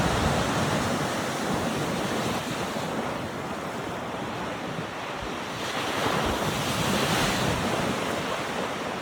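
Heavy storm waves on Lake Superior crash and roar continuously during a snowstorm, loud and close, with strong wind buffeting the microphone throughout.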